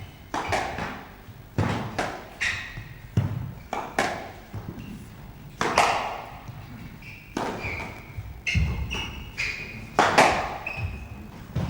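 Squash ball struck back and forth in a 1992 Grasshopper Cup match rally, sharp thuds and wall taps repeating irregularly about every second with squeaking shoes, close and fairly loud throughout.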